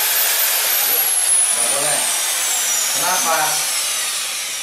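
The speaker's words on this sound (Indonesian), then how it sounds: "Untuk ngebor jangan sampai langsung terusan. Kalau nggak boleh langsung gini." A power drill fitted with a wood drill bit bores into wood, giving a loud, continuous high-pitched whine that steadies and fades slightly, with a brief spoken word over it.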